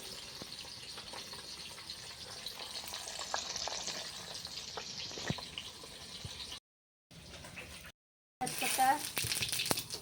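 Fish sizzles and fries steadily in a pan of curry with ginger, green and red chillies and water, a close continuous crackle broken by two brief silent gaps, with a stirring clatter near the end.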